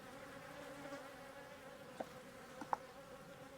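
Honeybees buzz in a steady, faint drone as they are shaken from an opened hive into a nucleus box, with a few soft bumps and knocks rising above the hum.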